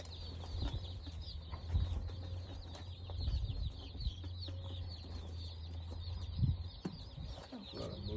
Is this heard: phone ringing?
no